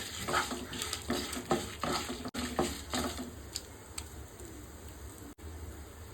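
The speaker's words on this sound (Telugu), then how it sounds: "ఎండుమిర్చి కూడా మంచిగా వేగేటట్టు వేయించుకోవాలి" Dry red chillies frying in a pan, a soft steady sizzle broken by repeated scraping stirs of a spatula against the pan, close and quiet with no talking.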